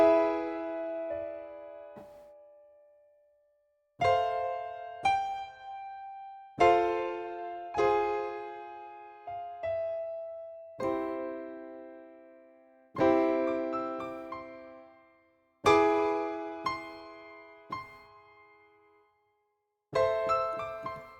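Piano chords played one after another in a progression that includes a borrowed minor four chord, each struck cleanly and left to ring and decay, with short silences between some chords and no talking.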